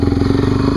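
A dirt bike engine idles up close, a loud, rapid, even putter of regular pulses with a slight mechanical clatter throughout the short moment.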